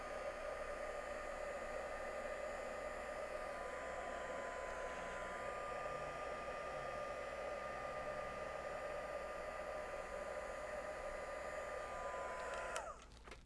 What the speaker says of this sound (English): make sure my heat gun doesn't like fall off the table and burn the doodle